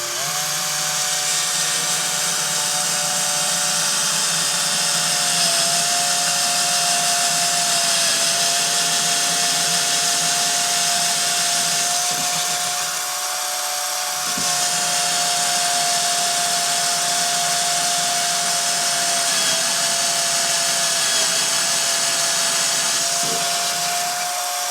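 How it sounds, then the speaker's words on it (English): A steady, loud whining drone of a power drill running continuously while drilling slowly into a wall, with a brief dip in the middle before it resumes. "When you're drilling, hold your hand on the drill against the wall."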